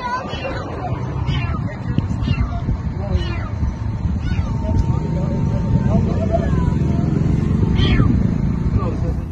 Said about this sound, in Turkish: Erzincan merkezde bir otomobilin motor kısmına giren yavru kedi araç sahibi tarafından fark edildi